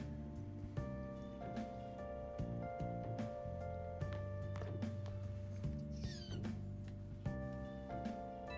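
A cat in Persona 5 Royal meows a few times over steady game music, fairly faint and mixed into the soundtrack, with no talk.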